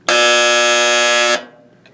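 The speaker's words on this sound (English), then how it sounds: "this dryer has a constantly on buzzer" End-of-cycle buzzer on a 1996 Maytag Dependable Care Plus dryer, a single loud, harsh, steady electronic tone lasting just over a second before cutting off sharply, heard up close.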